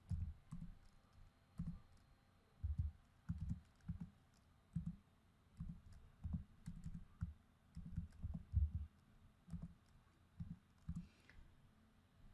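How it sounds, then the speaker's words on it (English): Computer keyboard keys clatter in quick, irregular bursts of close, soft clicks, with short pauses between runs of typing. "I'm using my keyboard, but you can use the soft template as well if you're on a touch screen."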